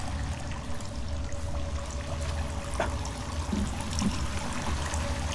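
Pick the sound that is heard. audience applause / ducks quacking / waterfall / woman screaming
waterfall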